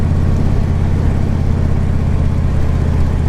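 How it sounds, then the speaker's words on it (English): A 2014 Harley-Davidson Ultra Limited, a heavy touring motorcycle, idles with a loud, close, steady engine rumble and a throbbing low drone that holds even throughout, with no voices. "So this is the 2014 Harley Ultra Limited."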